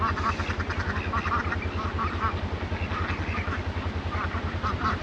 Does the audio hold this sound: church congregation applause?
no